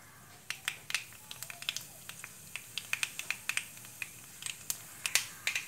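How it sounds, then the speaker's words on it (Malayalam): Mustard seeds pop in hot oil as the tempering for a quick potato masala begins, sharp irregular crackles scattered over several seconds, close and crisp with no talking. "കടുക് പൊട്ടിയിട്ടുണ്ട്."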